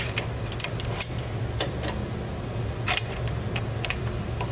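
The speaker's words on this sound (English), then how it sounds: "So I'm going to take my wrench." A wrench clicks and ticks in quick irregular bursts while adjusting engine valve lash clearance, small close metallic ratcheting taps over a faint steady hum.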